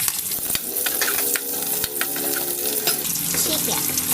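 Garlic and onions sauté in a hot frying pan, a loud steady sizzle with scraping stir strokes and utensil clicks against the pan throughout.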